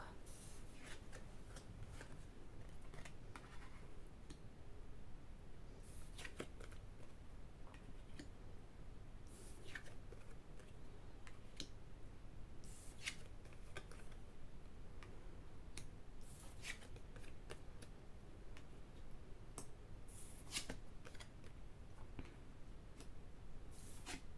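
Tarot cards are shuffled for a reading, with soft irregular riffles, flicks and light slaps of card stock, close and quiet against a faint steady background.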